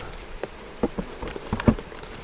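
Rain falling outdoors during a beehive split, scattered drops tapping sharply on surfaces nearby over a soft, faint background hiss.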